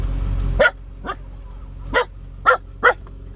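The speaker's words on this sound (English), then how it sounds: "Max, there's another dog barking." A dog barks five times in sharp, spaced bursts over a steady low rumble of truck cab noise on a highway, fairly close and loud.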